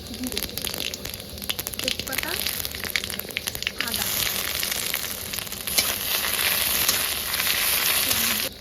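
River fish frying in hot oil in a pan outdoors beside a river, with a steady loud sizzle and crackle that swells and holds through the second half.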